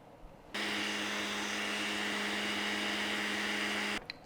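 A kitchen blender blitzes raw meat, eggs and water into a protein shake, kicking in abruptly with a loud, steady motor whine and churning roar that holds evenly for about three and a half seconds, then cuts off.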